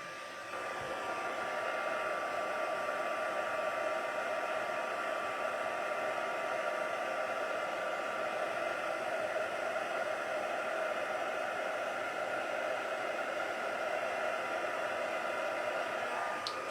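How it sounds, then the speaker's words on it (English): A heat gun melting embossing powder on a handmade card gives a steady, even blowing whoosh with a whine, continuous and close for the whole stretch. "So then you can get your heat gun and you can emboss nice and clear."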